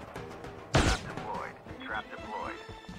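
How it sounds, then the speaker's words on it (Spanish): A single sharp, loud gunshot cracks out in a video game amid quieter game sounds and thuds, with people talking around it. "escucho tiro a la izquierda, escucho disparo a la izquierda"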